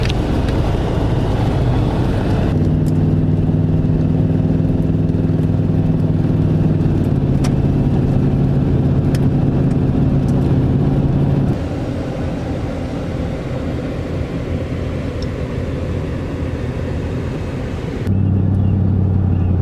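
An old pickup truck driving, with a loud steady engine drone and road rumble from inside the cab whose pitch shifts as it changes speed.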